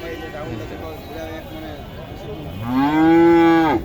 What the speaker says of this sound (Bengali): এইখানে একটা গাবি দেখতেছি এটা এটা দেশি গাবি না ভালো মানের একটা দেশি গাবি দেখেন